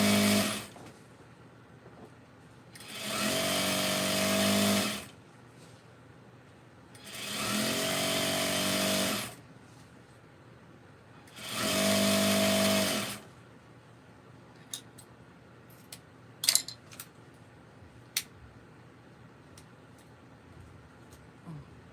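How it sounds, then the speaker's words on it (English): A home sewing machine runs in three steady bursts of about two seconds each, a loud close motor whir with rhythmic needle clatter, separated by pauses, followed by scattered faint clicks and taps. "One of my best investments was this sewing machine."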